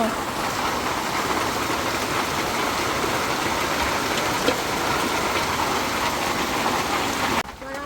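Steady rain falls outside, a dense even hiss of drops on surfaces that continues without a break for most of the stretch, then cuts out abruptly near the end.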